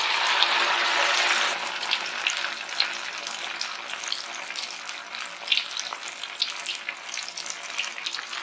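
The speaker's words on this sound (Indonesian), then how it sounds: "Yuk kita langsung goreng." Battered stuffed tofu, coated in wheat flour with chicken stock and pepper, drops into hot oil. A loud burst of sizzling at the start settles into steady crackling and popping.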